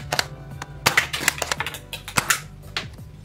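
Nerf Tetrad QS-4 blaster firing a foam dart during an accuracy test, heard as a string of sharp, close plastic clicks and snaps with one louder pop, clacking mechanism sounds around it.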